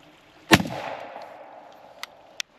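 A single sharp turkey shotgun blast fired at a patterning target 25 yards away, followed by a short fading echo and two faint clicks.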